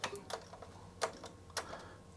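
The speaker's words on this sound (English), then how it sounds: "Let's test the keyboard then." Keys tapped on a Sanyo Wavy 23 MSX2 computer keyboard: a handful of sparse, close clicks at irregular intervals, quiet and alone.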